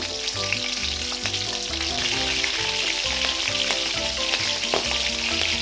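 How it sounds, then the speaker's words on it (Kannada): Cut green chillies frying in hot oil for a chicken liver and gundakayee fry crackle and sizzle loudly and steadily, with background music playing throughout. "ಆಯಿಲ್ ಬಿಸಿ ಆದಮೇಲೆ ಅದ್ರ ಜೊತೆಗೆ ಕಟ್ ಮಾಡಿರೋವಂಥ ಒಂದು ನಾಲ್ಕು ಅಷ್ಟು ಮೆಣಸಿನ್ಕಾಯಿ ಹಾಕ್ತಾ ಇದ್ದೀನಿ ನೋಡಿ ಇದು ಸ್ವಲ್ಪ ಫ್ರೈ ಆಗಬೇಕು"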